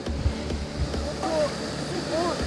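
The Tamashin waterfall splashes and rushes steadily close by, a broad constant wash of falling water with voices talking over it.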